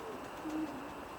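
Soft, low cooing of racing pigeons inside a pigeon loft's young bird section, a couple of brief hoots over a quiet, steady background, heard close but faint.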